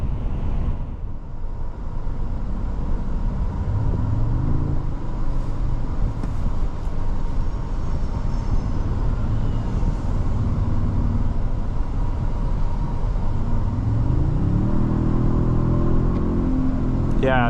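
Hybrid turbo V6 engine of a 2024 Toyota Sequoia TRD Pro SUV accelerating from inside the cabin, a steady low rumble with road noise that rises into a climbing engine note near the end.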